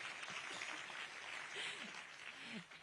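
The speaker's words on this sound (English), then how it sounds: "We can also give them a round of applause." Audience at a science and AI hub event in New Delhi applauding, a steady wash of clapping held for the whole stretch, faint and distant, with a few voices murmuring underneath.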